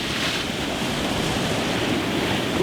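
Sea waves breaking on the rocks of the North Devon coast, a steady broadband wash of surf with wind noise buffeting the microphone throughout, continuous and fairly loud with no voices.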